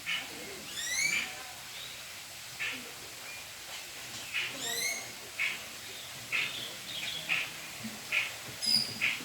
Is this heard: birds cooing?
yes